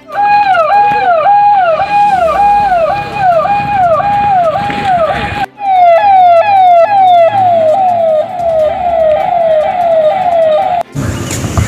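An ambulance siren on a road in Paradip wails loudly and close, cycling through rising and falling sweeps, then switching to a faster yelping pattern before cutting off abruptly near the end.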